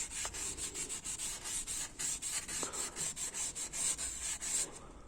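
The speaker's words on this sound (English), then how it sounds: "we're gonna get some sandpaper and we're gonna just smooth those edges" Sandpaper rubs by hand across the sharp metal edges of a transmission part during a home rebuild. The strokes are steady and rhythmic, close up and fairly quiet, with no talking.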